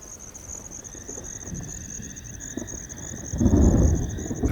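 A thunderstorm rolls over the Masai Mara at night: steady high cricket and insect chirping runs throughout, and a deep, distant thunder rumble swells louder in the last second or so.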